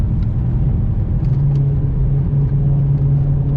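BMW E92 M3 with worn front wheel bearings, giving a steady, loud low rumbling drone with a grumpy hum that holds throughout, recorded close from inside the moving car.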